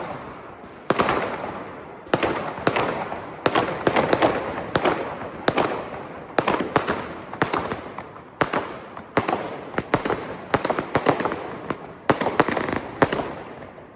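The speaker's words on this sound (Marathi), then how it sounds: "लोक 31st फटाके फोडतात" New Year's Eve firecrackers burst over Berlin in a rapid, uneven barrage of sharp, loud cracks and bangs, some near and some farther off, with brief gaps between volleys and no voices.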